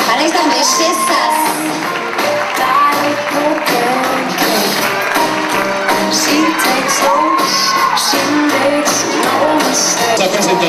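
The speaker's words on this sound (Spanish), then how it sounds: "¡Fuerte el aplauso para estas bellezas!" Audience at a children's fashion show at a school fills the space with steady, loud crowd noise, claps and cheers, with shouts and children's voices mixed in, and an announcer talking over it throughout.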